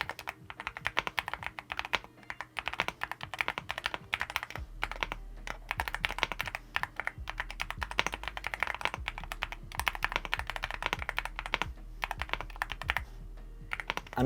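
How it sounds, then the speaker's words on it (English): Fast, continuous typing on a Yunzii AL66 mechanical keyboard with pre-lubed linear milky switches, a dense patter of smooth, deep key clacks close up and no talking. "typing on this keyboard is probably the best typing experience I've ever had on a keyboard"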